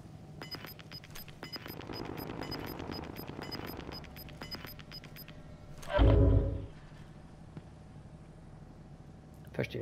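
Rapid gunfire bursts in the video game Call of Duty: Modern Warfare crackle for several seconds, followed by a single heavy blast, with players talking over the action.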